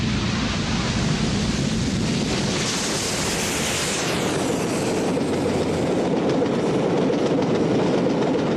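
A Southern Railway express steam locomotive speeds southbound on the Settle and Carlisle line, a continuous loud roar of wheels and rushing train noise with a faint rhythmic clatter, steady throughout.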